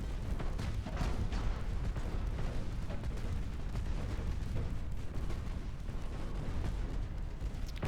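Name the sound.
warship secondary guns firing, Ultimate Admiral: Dreadnoughts video game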